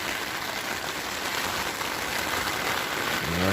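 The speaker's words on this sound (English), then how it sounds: "that's some rain." Steady rain drums on a tent at night during a cross-Canada bike tour, a dense, even patter close overhead that continues without letup, with a brief low murmur near the end.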